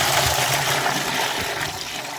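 Water pours into a bucket in a steady, close splashing rush that fills the short moment, with no talk over it.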